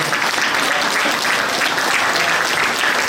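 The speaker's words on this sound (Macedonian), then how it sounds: "и за нашите тримерчици еден голем аплауз" Sustained, dense applause from a crowd at a carnival event in Strumica, loud and steady from start to end with no breaks.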